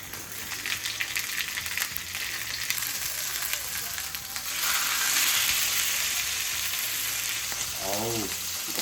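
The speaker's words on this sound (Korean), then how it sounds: "자, 팬에 열이 오르면 자, 고기 기름 쪽부터 올려줄게요." Chashu pork laid fat side down in a hot pan sears with a steady, loud sizzle that swells midway, with a brief scraping stir near the end.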